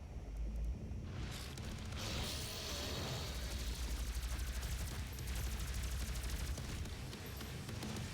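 Rapid gunfire rattles through a DOOM battle, dense and continuous bursts over a low rumbling bed of explosions, fairly quiet overall and without any voices.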